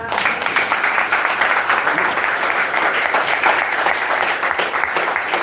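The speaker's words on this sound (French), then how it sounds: "Applaudissons pour notre Seigneur." Worshippers at a church service applaud in a dense, continuous round of clapping that stays loud and even from start to finish.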